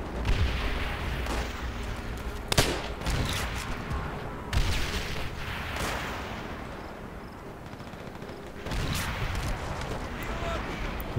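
Gunfire and grenade explosions in the World at War shooter game: sharp bursts and booms at about 2.5, 4.5 and 9 seconds over a continuous din of battle, with players talking throughout.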